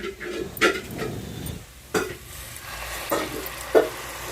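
Carrot halwa made with jaggery and milk powder is stirred in a pan as milk is added, with a low sizzle and several distinct scraping strokes and clinks at irregular intervals, close by and with no talking.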